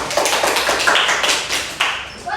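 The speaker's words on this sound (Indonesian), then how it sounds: "Tepuk tangannya" A group in a classroom claps hands. Several close, crisp claps come in a quick, uneven burst that fades out.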